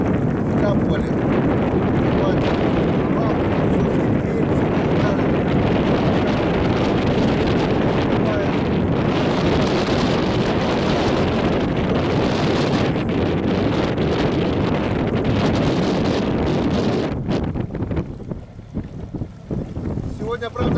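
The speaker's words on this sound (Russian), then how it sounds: "Сегодня, правда, небольшой ветерок" Light wind buffets the microphone during a first water trial of a wooden Komi boat on the Pechora River, a loud continuous roar that eases near the end as a voice speaks.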